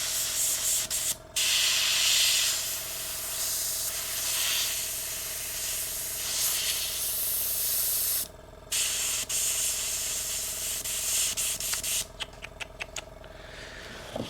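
A spray paint can hisses loudly and steadily while coating a Miles Morales sculpture, with short breaks and a run of quick sputtering bursts near the end, as from a clogged nozzle.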